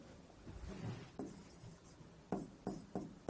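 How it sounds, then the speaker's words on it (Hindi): Chalk or pen writing on a board or paper, a handful of short scratchy strokes tapping and rubbing in an irregular rhythm, fairly close. "मैं लिख देता हूं"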